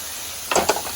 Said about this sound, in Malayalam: നല്ല ഫ്രൈ ചെയ്യണ്ടേ?